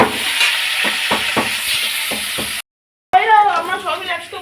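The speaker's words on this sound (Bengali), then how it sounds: "মাছটা ভাজা হচ্ছে" Fish sizzles steadily as it fries in hot oil in a home kitchen, with scraping stirs and pan knocks, then cuts off abruptly before a person starts speaking.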